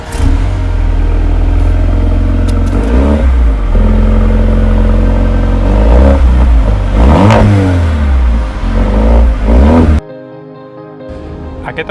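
A Mercedes-AMG A35 with 4MATIC all-wheel drive and a 306-horsepower engine revs loudly up and down in repeated rising and falling bursts, close by, before cutting off abruptly near the end.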